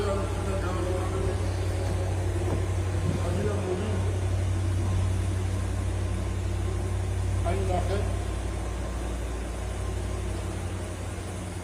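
A car with a 6.2 litre engine idles with a steady low hum throughout, while people talk nearby.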